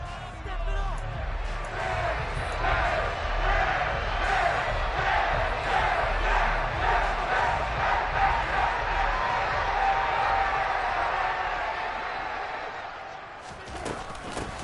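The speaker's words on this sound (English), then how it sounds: "Plenty of shouts from this crowd as they watch the replay." Stadium crowd at an NFL 49ers versus Bears football game, loud sustained shouting and roaring from thousands of fans watching a replay, continuous and dense throughout before easing slightly near the end.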